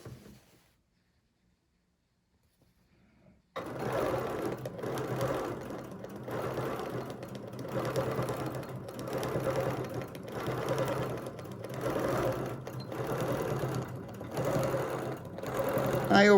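Sewing machine fitted with a ruler foot double stitching over an existing seam while making a fabric dog bone: steady, continuous close motor whir and needle rhythm starting after a few seconds of near silence and running to the end.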